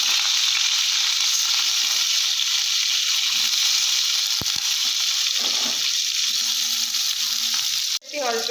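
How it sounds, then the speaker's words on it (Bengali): Potatoes fry in hot oil for a home-style vegetarian cauliflower and potato dalna, giving a loud, steady sizzle throughout, with a short clatter near the end. "এই তেলেই আমি আবার আলুগুলো উপরে নেব লাল লাল করে"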